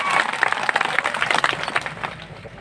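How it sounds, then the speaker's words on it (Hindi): A political rally crowd claps in a dense burst of applause that swells briefly, then thins and fades out over a couple of seconds. "इसलिए एक बार जोरदार तालियां आप सबके लिए।"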